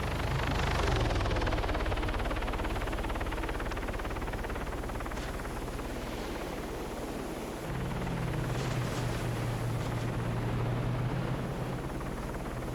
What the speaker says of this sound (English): Because we do have that aircraft flying overhead.